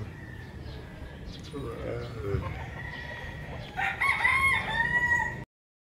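A nearly year-old rooster at a seller's place in Rosario, Batangas crows loudly and close by near the end, a drawn-out call rising over faint background sounds and brief murmurs.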